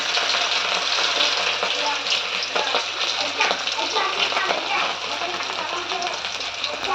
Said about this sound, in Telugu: ఆయిల్ వేడెక్కిన తర్వాత చేప పీసులను వేసుకోవాలండి